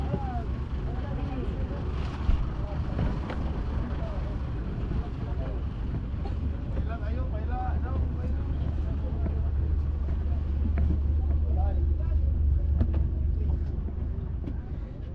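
A fishing boat out at sea, its low engine drone and wind rumbling steadily the whole time, with people talking and calling out over it.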